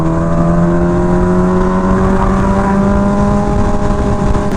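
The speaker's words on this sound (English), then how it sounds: "when I roll off the throttle, it kind of like stops abruptly, and when I get back on the throttle" Kawasaki Ninja H2R motorcycle engine droning steadily at close range under riding wind, its tone dipping slightly as the throttle is rolled off and then picking back up as it is reopened.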